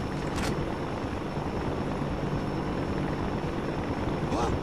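A propeller spinning on an engaged drive shaft at the docks in The Punisher video game makes a steady, dense mechanical whirr and drone that holds at an even level throughout.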